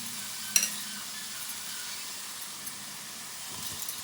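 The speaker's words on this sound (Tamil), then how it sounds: "இது கொஞ்சம் நல்லா வதங்கட்டும்" Onions and spices sauté in a pan for a prawn gravy, a steady soft sizzle with a faint scrape of stirring and one sharp clink near the start, close and alone.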